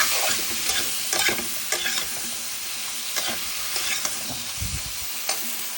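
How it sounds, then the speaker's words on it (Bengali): Hilsa fish cooks with ridge gourd, nigella seeds and green chillies in mustard oil, a loud continuous sizzle with frequent spoon scrapes and stirring knocks in the pan, close by. "কালো জিরা, কাঁচামরিচ, সরিষার তেল, ঝিঙা দিয়ে আপনার ইলিশ মাছ রান্না করছি।"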